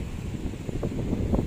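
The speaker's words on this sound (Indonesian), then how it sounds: "Anginnya cukup kencang di sini, kawan." Strong wind buffets the microphone on black-sand Kedungu beach in Tabanan, Bali, as a brief, low, rumbling gust with no talk over it.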